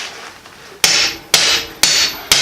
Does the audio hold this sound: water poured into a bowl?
no